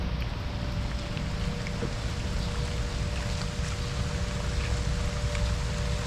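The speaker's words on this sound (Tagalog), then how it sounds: "medyo lumalakas yung ulan" Steady rain falls on a vegetable farm planted with eggplant and bitter gourd, a continuous hiss with a low rumble underneath and a faint steady hum, no one speaking.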